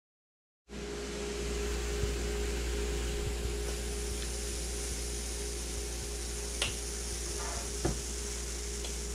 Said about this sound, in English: When cooking these pancakes, you got to cook them on a lower heat.